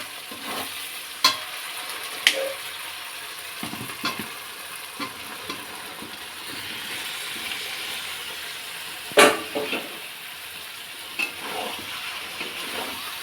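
Goat meat is dropped into fried spice paste in a pan and stirred, giving a continuous low sizzle with scattered sharp clinks and scrapes of the spoon against the pot, close and without talk.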